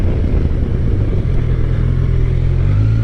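A 2023 Kawasaki Versys 1000 SE motorcycle engine growls close by and pulls harder from low revs, its pitch climbing steadily toward the end as it accelerates.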